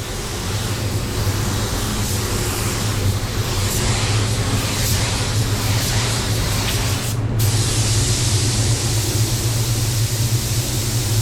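Steady, loud hiss of a Walcom Ego Mini paint spray gun running continuously, with a brief break near the end before spraying resumes.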